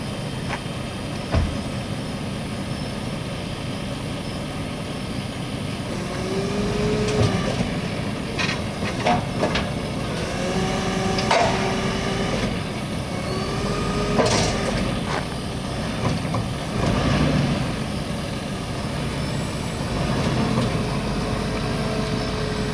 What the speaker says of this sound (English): And off the tow truck goes